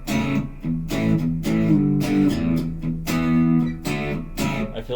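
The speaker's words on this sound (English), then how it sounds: "right out of the box, I like the basic distortion sound." An electric guitar played through an MXR M75 Super Badass Distortion pedal, with repeated strummed distorted chords in a loose rhythm, each ringing briefly before the next, loud and close with no talking.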